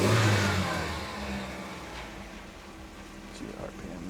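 A car engine with an old idle air control valve and about 100,000 miles revs up loudly at first, then settles toward a lower, uneven idle under faint background noise.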